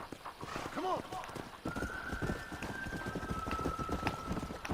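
Horse hooves from the video game Red Dead Redemption clop in a steady galloping rhythm under talking voices, with a brief whinny near the start and a sustained whistling tone.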